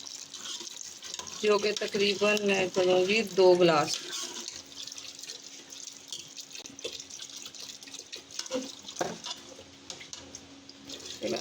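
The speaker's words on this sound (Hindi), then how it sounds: "अब हम इसमें शामिल करेंगे पानी" Water splashes steadily into a cooking pot of mixed kidney bean curry base for a couple of seconds, then someone speaks over quieter kitchen sounds.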